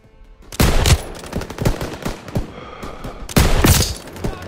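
Machine gun fire in a Call of Duty battle, with loud close bursts of rapid automatic shots starting, pausing briefly and returning in a second heavy volley.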